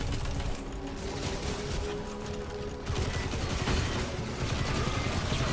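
Rapid bursts of SMG hip fire in the video game Destiny 2, dense fusillades of shots at steady loudness with a short lull midway, no talking.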